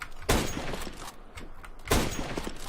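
Two separate shots from the new Scout sniper rifle in the CS:GO game, each a loud close crack followed by a decaying rumble, about a second and a half apart, with faint mechanical noise between them.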